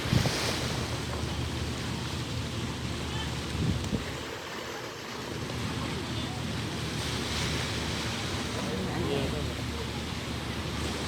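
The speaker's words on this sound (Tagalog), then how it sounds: "mahina yung alon niya. Hindi siya masyadong malakas." Steady surf washing in at a Kennedy Town swimming shed in Hong Kong, a continuous broadband rush with wind buffeting the microphone; the waves stay soft and even rather than crashing.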